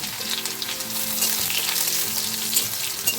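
Crushed garlic, ginger and chopped onion sizzle steadily in hot oil with black cumin in a pan, a continuous close frying hiss with no voices.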